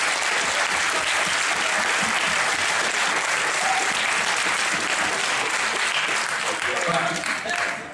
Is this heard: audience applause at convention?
yes